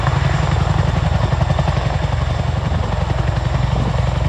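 A Boeing CH-47 Chinook twin-rotor helicopter flies a display at ILA Berlin 2018, its loud, steady rhythmic rotor thumping and engine drone close and continuous throughout.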